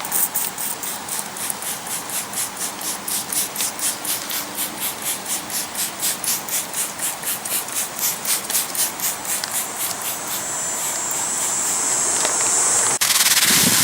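A sponge scrubs a convertible soft top on a Mercedes with top cleaner, giving a rapid rhythmic rasping of even back-and-forth strokes, close and loud, that smooths into a steadier brushing rush near the end.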